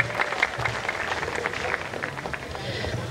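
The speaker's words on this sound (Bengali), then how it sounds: "সকলের জন্য হয়ে যাক জোরে সোরে করতালি।" An audience claps for singers at a live music performance, a fairly quiet spread of scattered hand claps mixed with low crowd murmur throughout.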